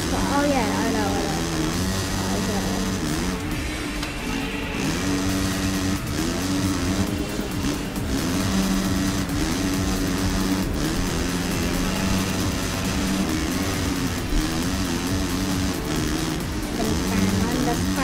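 Motocross bike engine at full throttle in the MXGP3 racing game, MX2 class at Kegums, droning steadily and loudly throughout with pitch shifts as gears change, while a voice talks over it.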